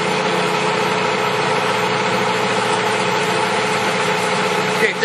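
A heavy-duty American 21.5 by 36 inch lathe runs with its headstock turning, producing a smooth, steady mechanical hum and whir, fairly loud and close, without talking.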